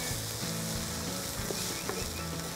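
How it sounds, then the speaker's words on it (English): Bell peppers sautéing in a pan give a steady, loud sizzle with occasional light stirring clicks, no voices. "Saute this a little bit just to soften it and to extract the flavors."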